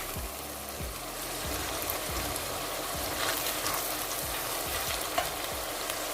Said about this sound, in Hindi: प्याज को हम गोल्डन ब्राउन होने तक अच्छे से भूनेंगे।